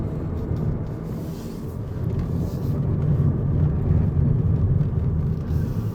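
Electric BYD Dolphin hatchback driven slowly up the winding mountain road to Genting, heard from inside the cabin as a steady low road and tyre rumble that swells slightly toward the end, with no talk.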